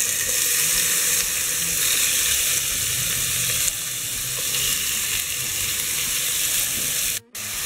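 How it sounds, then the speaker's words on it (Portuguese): Meat frying in a little olive oil in a small pan over very high heat, releasing water as it cooks; a loud, continuous close-up sizzle with slight shifts in intensity and a brief dip near the end. "aqui a gente vai deixar fritar até secar a água, tá?"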